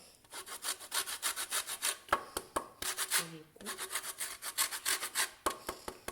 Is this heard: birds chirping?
no